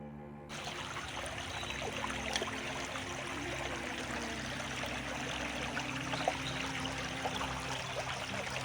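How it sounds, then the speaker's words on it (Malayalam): Water murmurs steadily beside a temple well, a continuous broadband trickling flow heard alone from close by, without pause for the full length. "വെള്ളത്തിൻ്റെ കളകളര"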